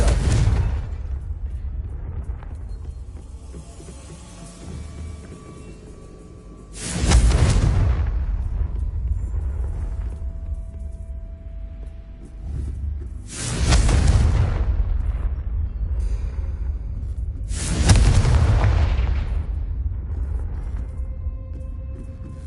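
Confringo spell blasts in Hogwarts Legacy, four heavy booming explosions spaced several seconds apart, each followed by a long rumbling decay.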